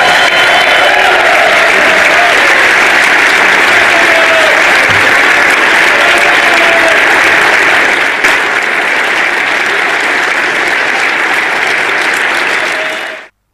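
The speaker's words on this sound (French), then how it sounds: "faire écouter ce standing ovation qui a bien sûr pris environ 1 minute pour acclamer le président Volodymyr Zelensky" A standing ovation for Ukrainian President Volodymyr Zelensky at the European Parliament fills the hall with loud, dense, sustained applause lasting over ten seconds before cutting off abruptly.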